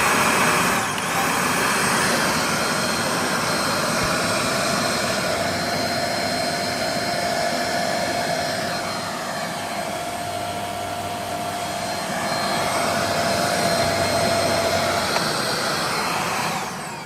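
A Riccar R25 vacuum cleaner, a discarded machine that turns out to work, runs continuously with a loud, steady whining roar close by, its pitch drifting slightly over the length of the run, with no voices.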